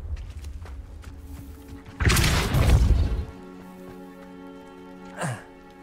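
A Confringo spell blast in the video game Hogwarts Legacy, a sudden loud fiery burst lasting about a second over a steady game soundscape, with a brief smaller whoosh afterward and no talking.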